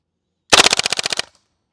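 A GHK G5 airsoft rifle fires full auto in one sharp, loud burst of roughly ten rapid, evenly spaced shots lasting under a second, close up, followed by silence.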